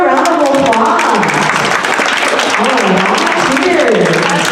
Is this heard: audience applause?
yes